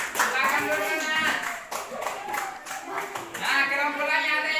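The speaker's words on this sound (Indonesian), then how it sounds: "Kasih tepuk tangan kepada kelompok satu" Group one in a classroom receives a round of clapping from classmates, with scattered hand claps mixed under lively children's voices talking and calling out throughout.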